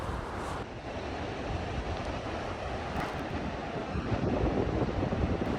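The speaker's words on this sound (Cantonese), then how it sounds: "不過呢度好大風。" Strong wind buffets the microphone at a high seaside viewpoint in Itoshima, Fukuoka, as a loud, continuous roar that swells slightly toward the end, with no voices.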